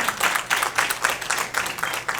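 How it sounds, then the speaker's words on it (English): Applause from an audience at a Women's History Month celebration, with rapid clapping that swells and eases in waves for a couple of seconds and no voices over it. "Let's give her a round of applause."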